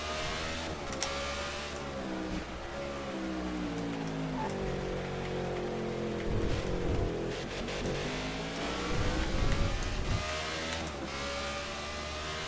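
A NASCAR '15 race car at Sonoma's Toyota/Save Mart 350, its engine droning and rising and falling in pitch through gear changes and corners, with other cars passing and a spray-like hiss underneath.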